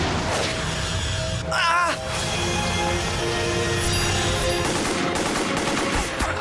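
Gunfire from the Sword Art Online anime crackles in rapid bursts and scattered shots over a busy soundtrack, loud and dense, with voices mixed in among the shooting.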